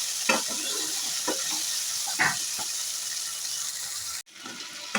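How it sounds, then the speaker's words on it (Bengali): Chopped tomato frying in a spiced oil tempering for a jackfruit and chana dal dish, a steady close sizzle with a few scraping stirs, then a sharp hiss near the end. "ফোড়নটা এবার কেটে রাখা একটা টমেটো দিয়ে দিচ্ছি"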